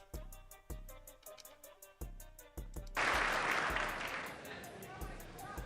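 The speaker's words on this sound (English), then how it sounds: "Oh, the Democrats stood up and applauded that?" Democrats at the 2026 State of the Union address break into loud, sustained applause partway through, following a stretch of rhythmic thumps and talk, with the clapping continuing to the end.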